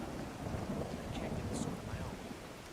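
Rain and thunder from the video game Skyrim: a low rolling rumble of thunder over steady rainfall, with a faint brief higher sound partway through.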